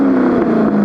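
A car engine fitted with a larger aftermarket exhaust, a smooth, steady, loud exhaust drone close by, with no talking.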